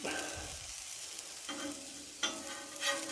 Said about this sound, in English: Pop our bacon across the back.